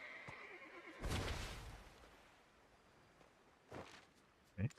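A horse whinnies in a video game, a long bright neigh near the start, followed later by shorter snorts and a sharp clop-like burst at the very end, with quieter ambience between.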